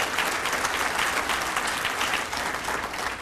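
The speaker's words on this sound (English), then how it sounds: "I'm glad you clapped before I even said what he did" An audience at a school district's State of the District event bursts into sustained, dense applause, a continuous wash of clapping filling the room with no pause.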